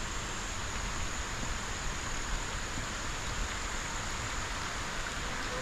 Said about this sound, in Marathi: पावसाला परत सुरुवात झालेली आहे